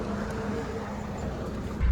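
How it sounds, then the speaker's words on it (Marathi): A car cruises along a highway on the road back to Mumbai, giving a steady low engine and road hum with faint wind noise, rising slightly at the very end. "आणि आता ड्रायव्हर मी चालवणार गाडी."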